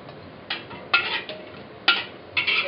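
Pasta with capsicum being stirred in a wok, a handful of scraping, clinking metal strokes at uneven intervals, close and moderately loud with no talking.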